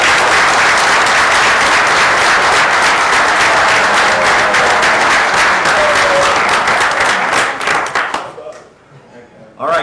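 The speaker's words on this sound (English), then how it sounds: "let's give them one more big round of applause" Loud, dense applause from a council meeting audience honoring state champions, sustained rapid clapping that fills most of the clip before quickly dying away near the end.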